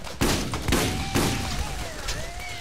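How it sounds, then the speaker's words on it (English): Shotgun blasts ring out in the video game Borderlands, several sharp booming shots spaced about half a second apart over a steady background hum, fairly close and loud. "Shotgun showdown."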